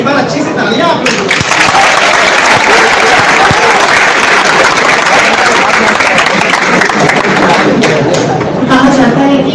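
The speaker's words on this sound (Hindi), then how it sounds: "एक बार अच्छी से तालियां आप लोग।" Loud, sustained applause from a large audience at a Hindi motivational lecture, a dense continuous wash of clapping lasting the whole stretch with faint crowd murmur beneath.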